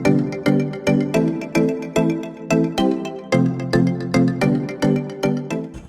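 A mobile phone rings on a road trip in Tripura, with a loud, steady ringtone of bright electronic notes repeating in a quick, even pulse and nothing else heard.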